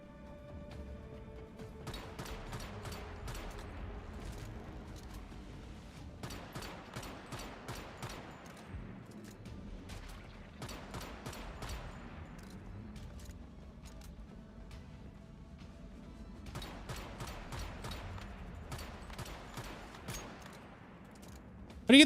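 Bursts of automatic gunfire from the video game Once Human come in four or five sustained volleys of rapid shots over a low background rumble, with short pauses between them.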